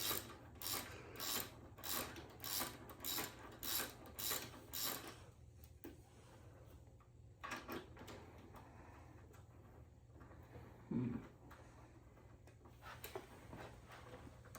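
Rhythmic ratcheting clicks of a bolt being unscrewed while fitting a luggage rack on a Honda Transalp, about eight quick, evenly spaced turns, then quieter scattered clanks and handling noises, faint and close.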